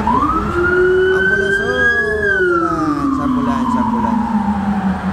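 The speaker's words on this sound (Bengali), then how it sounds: "ওই যে পুলিশের অ্যাম্বুলেন্স" A police ambulance siren passes by, a loud, continuous wail whose pitch rises and then slides steadily down as it moves away.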